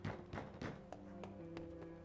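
Knocking on a door in the video game This War of Mine: a few soft, quick raps near the start, followed by lighter taps, over quiet background music.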